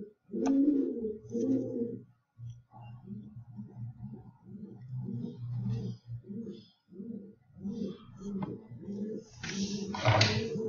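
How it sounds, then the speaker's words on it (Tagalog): Pigeons coo at a window repeatedly in soft, throaty rhythmic phrases, close by, with a brief flutter near the end. "Makulit yung mga baka kalapati sa bintana"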